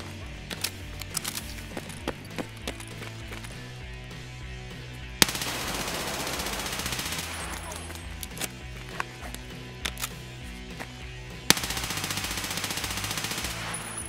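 Automatic rifle fire in the video game Escape From Tarkov, during a chaotic Reserve boss event, comes as two long sustained bursts between scattered single shots over a constant busy game background; no talking.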